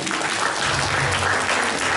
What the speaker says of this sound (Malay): So, beri tepukan kepada Semangat Angsa Laut.